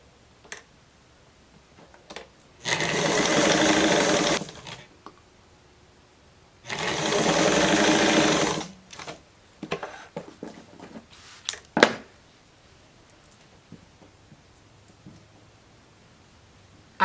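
A sewing machine stitches a blouse seam in two steady runs of a few seconds each, close and fairly loud, with light ticks and handling clicks between and after them.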